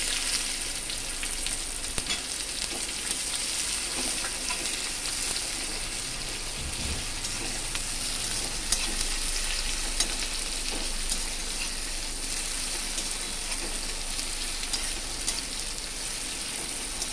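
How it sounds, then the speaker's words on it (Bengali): Chopped onion fries in hot oil with a constant, dense crackling sizzle that stays even throughout, with no voices. "এবার এর মধ্যে দিয়ে দিচ্ছি কুচনো পেঁয়াজ"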